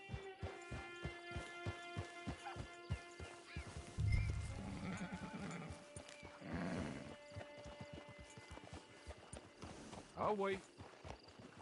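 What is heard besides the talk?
horse neighing and hooves in video game Red Dead Redemption Online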